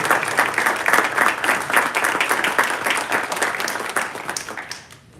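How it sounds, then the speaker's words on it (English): Audience applause at a town council meeting honoring a group of reenactors, dense steady clapping from the room that tapers off at the end. "Just a round of applause for the Morris Minutemen who are here tonight too."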